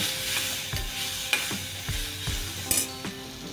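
Raw mango pieces are stirred with turmeric in a frying pan for mango launji, a steady sizzle under repeated scraping strokes of a spoon against the pan, close and moderately loud.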